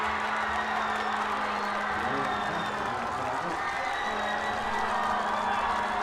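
A crowd at a Texas high school football game cheers and applauds in a steady, dense roar that runs the whole time. It sounds broad and fairly distant, with a low hum underneath.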